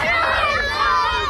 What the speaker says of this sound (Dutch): Jullie kunnen wel gillen, zeg.